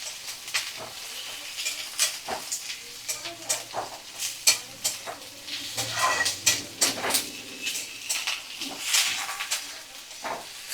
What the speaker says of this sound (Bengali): সমস্ত সবজি ভালো করে নাড়াচাড়া করে নিচ্ছি।